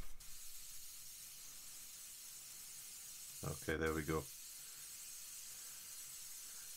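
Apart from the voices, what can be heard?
airbrush spraying paint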